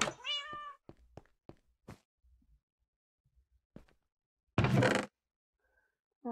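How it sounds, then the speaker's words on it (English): A cat meows in a video game, a short rising series of meow calls at the start, followed by scattered soft thumps and clicks and a brief burst of rushing noise near the end. "Oh, I just heard a kitty."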